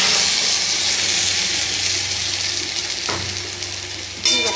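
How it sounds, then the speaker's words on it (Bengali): Ridge gourd paste goes into onions frying in a pan, raising a loud, dense, close hiss of sizzling that eases slightly, with a thump midway and a fresh burst near the end. "এর মধ্যে দিয়ে দেবো ঝিঙে যে বেটে নিয়ে এসেছিলাম দিয়ে দেবো ঝিঙে বাটা দিয়ে"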